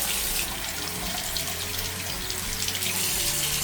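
Tap water runs steadily over a folded Samsung Galaxy Z Fold 7 phone, a continuous close hiss of flowing and splashing water with no talk.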